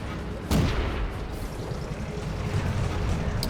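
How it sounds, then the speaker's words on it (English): A single loud tank cannon blast from a World of Tanks battle featuring the French Renault FT, a sharp boom followed by a rolling rumble over steady engine and battlefield noise. "I think someone's shooting from across the way there."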